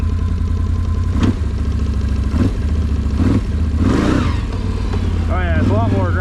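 A Can-Am Renegade 1000 ATV engine in sport mode, rumbling and revving up in several quick bursts, loud and close, with a rising whine near the end.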